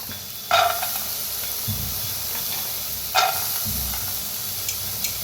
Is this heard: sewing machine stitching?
no